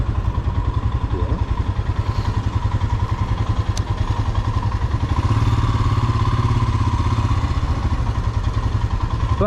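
Motorcycle engine running steadily while riding in fourth gear on a morning ride, a continuous close low rumble with rhythmic pulsing throughout, some wind and clatter, no talk.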